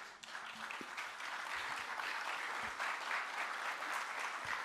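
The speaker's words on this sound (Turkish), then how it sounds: "Alkışı erken başlatıyor." An audience applauds at a political speech event, with dense continuous clapping at a moderate, fairly distant level throughout and a few sharper individual claps standing out.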